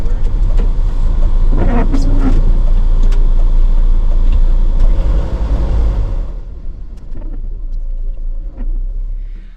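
A 6-ton truck with a failing drivetrain limping along an empty road at night, a loud heavy rumble with a grinding drone that drops in level partway through.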